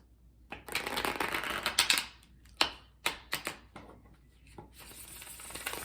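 Tarot deck from the Cosmic Tarot being shuffled by hand, several crisp riffling bursts and slaps of cards in an irregular rhythm, close and fairly quiet, with no talk.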